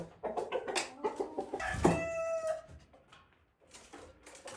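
Mini meat-breed hens clucking close by in a farmyard, with a burst of several clucks and a longer cackle, then a quieter stretch and more soft clucking at the end.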